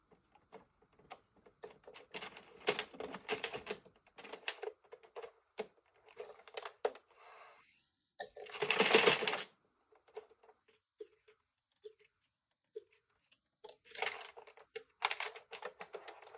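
An Addi 46-needle circular knitting machine being cranked, giving bursts of quick plastic clicking and rattling with short pauses between them, close and fairly quiet, with no speech.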